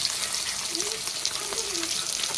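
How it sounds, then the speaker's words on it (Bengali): Fish frying in a wok in a home kitchen, a steady broadband sizzle filling the whole stretch, with faint voices or household sounds murmuring underneath. "মাছ ভাজা হচ্ছে এখন কড়াইয়ে"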